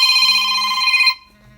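An on-call phone rings loudly with a bright, trilling electronic tone that cuts off abruptly after about a second, leaving faint room noise.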